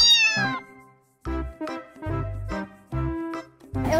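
A kitten meows repeatedly and up close, a string of loud, high, tonal cries in quick succession with short pauses between them and nothing else behind.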